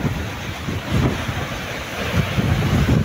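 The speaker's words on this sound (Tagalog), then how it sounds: "laking alon na kita nyo mga idol" Big ocean waves crash and surge around a fishing boat at sea, with continuous loud roaring water and heavy wind buffeting the microphone, rising and falling in repeated swells.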